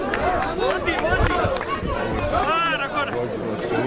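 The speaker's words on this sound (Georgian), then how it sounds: "შეძახილები." A crowd outside the gate of a detention facility shouts and chatters, many voices overlapping in a steady babble with rising calls and cries, fairly close.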